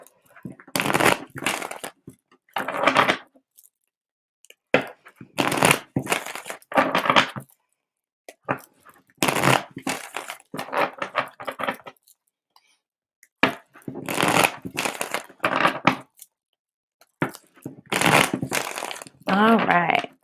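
Tarot cards for a reading are shuffled by hand in repeated bursts of rapid riffling and slapping, close and crisp, separated by short quiet pauses.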